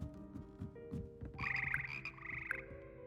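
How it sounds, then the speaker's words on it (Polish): Frogs croak in the Hogwarts Legacy video game. A rapid, rattling chorus of croaks rises in the middle of the clip over a low game ambience and fades near the end. "To są żaby grające."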